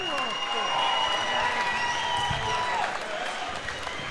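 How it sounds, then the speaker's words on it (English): Crowd applause and cheering fill the arena after a fight at the AFC 6 combat sports event, a steady, dense wash of clapping from a large audience with no pauses. "And a big round of applause as well to Nick Banjo Patterson."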